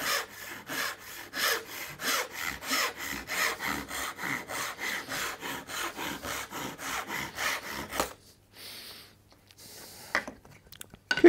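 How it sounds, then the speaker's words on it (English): A fine Japanese dovetail hand saw cuts wood in steady rhythmic strokes, rasping loudly on each pull back, about twenty repeated strokes close up, then a pause with a few faint knocks and shuffles. "You can probably hear the saw working just as I pull back."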